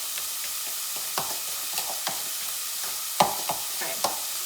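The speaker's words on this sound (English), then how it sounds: "And we're gonna go ahead and mix this up." Ingredients being mixed with garlic-flavored olive oil, giving a steady soft scraping and stirring texture with a few sharper clicks and knocks of a utensil against the bowl, close and fairly quiet with no talking.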